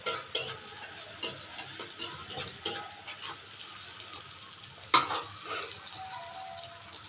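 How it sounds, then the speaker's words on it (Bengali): Chopped onions frying in oil for a rohu fish and jackfruit curry, a steady broadband sizzle with scattered spatula scrapes and stirring clatter, one sharper clink near the end, close and continuous with no talking. "আমার পেঁয়াজ ভাজা হয়ে গেছে"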